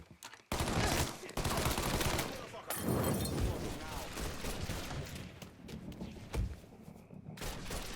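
Sustained gunfire in the video game Mafia 3, dense overlapping shots in a continuous barrage, with shouting voices mixed into the firefight.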